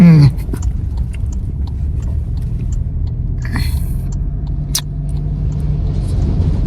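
A car driving along with a steady low rumble of engine and road noise from inside the cabin, plus a few faint clicks and rustles nearby.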